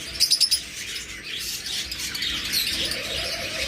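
A pair of lutino opaline pet birds chirps in a shop, with a quick burst of bright tweets at the start and then lighter intermittent calls over a busy background hiss.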